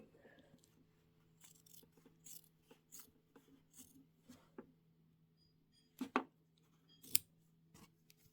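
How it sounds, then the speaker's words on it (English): Scissors snipping the end off a fabric binding on a Christmas quilt: faint rustling and handling, then a couple of short, crisp cuts close by in an otherwise quiet room. "I'm going to snip off that end."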